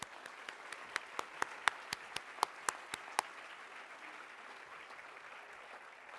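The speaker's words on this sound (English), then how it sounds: "So please give them all a round of applause." Sparse applause at a conference, a dozen or so distinct claps in a steady rhythm that stop after a few seconds, leaving quiet room tone.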